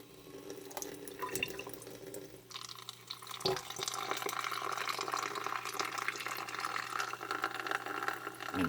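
Water pours steadily into a 2-gallon nano aquarium tank, a continuous splashing rush that starts softly and grows fuller, with no talking.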